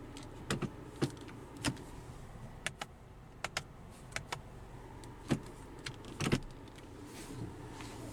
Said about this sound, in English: The side view mirrors also tilt down.